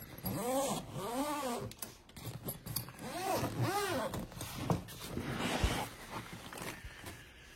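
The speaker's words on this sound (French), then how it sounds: "la fermeture éclair est une fermeture éclair qui est renforcée" A reinforced zipper is dragged along a rigid hard-shell case in several rasping pulls, close up, with other faint squeaky tones mixed in.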